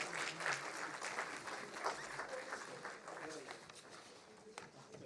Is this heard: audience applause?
yes